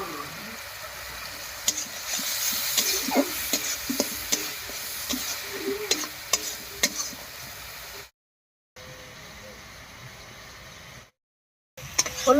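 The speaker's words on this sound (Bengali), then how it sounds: "হলুদ লবণ দিয়ে টমেটোটাকে খুব ভালো করে কষিয়ে নিয়েছি।" Grated tomato sizzles and fries with salt and turmeric in a pan, with scraping stirs and soft sputtering broken by two short silent gaps.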